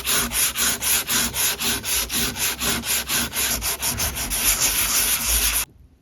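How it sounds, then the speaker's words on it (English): A dirty oven surface being sanded with 150 grit sandpaper: steady rhythmic back-and-forth scraping strokes, about two per second, close and loud, stopping abruptly near the end. "what I found is sandpaper. This is 150 grain sandpaper"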